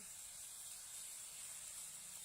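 Steady faint hiss of rohu fish pieces frying in hot oil, an even continuous sizzle with no breaks.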